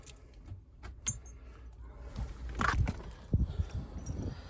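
A new set of keys jangles and clinks close by in a few short metallic bursts, rising toward the end over low background rumble, with no talk.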